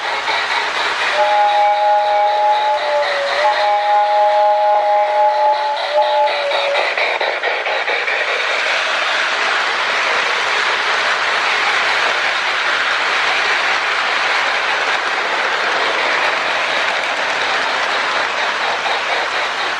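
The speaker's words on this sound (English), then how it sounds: "I like the sound of the MPC era whistles." A Lionel MPC-era steam locomotive model train whistle sounds loud and close in two long, steady, slightly wavering blasts, then fades into a continuous whooshing rumble of the running model train.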